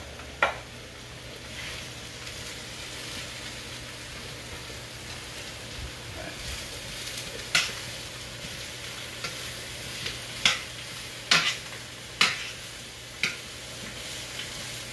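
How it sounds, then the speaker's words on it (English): Garlic and peppers sautéing in a pan, a continuous close sizzle with a series of sharp utensil clicks and scrapes growing more frequent in the second half, no talking. "Now you got the garlic, the peppers, very nice, sauteing down"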